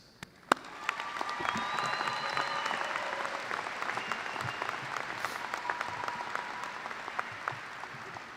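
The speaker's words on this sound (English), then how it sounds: "let's give a big Toledo graduating class round of applause for the real MVPs today, and that's your parents" A graduating-class audience at a University of Toledo fall commencement applauds the students' parents, a broad sustained clapping that swells quickly after a sharp opening clap and carries on evenly with a few whoops.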